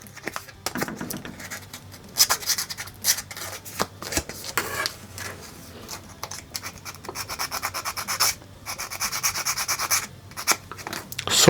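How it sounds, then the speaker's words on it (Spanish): Steady rubbing and scraping of sandpaper against a small plastic part of a Dimorphodon 3D model kit, in short repeated strokes with brief pauses, close and moderately loud. "Si no quiere entrar, puedes lijar un poco como siempre."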